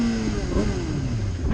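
Suzuki GSX-R sport motorcycle engine revving hard, a loud, steady close-up roar with a pitch that rises and falls, overlaid by an excited voice.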